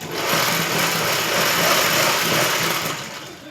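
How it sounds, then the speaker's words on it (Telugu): A sewing machine stitching a pico fall along a saree edge runs in one continuous, close, steady whir with a fine rapid needle rhythm, alone without talk. "రెండుసార్లు వేసుకోండి రెండుసార్లు వేస్తే కుట్టు అనేది గట్టిగా ఉంటుంది ఊడిపోకుండా ఉంటుంది"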